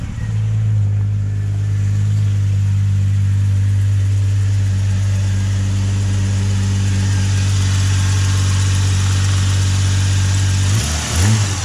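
A 1998 Jeep Cherokee XJ engine idles steadily with a strong low hum and constant drone, close and loud, running unchanged for the whole stretch before a brief shift at the end.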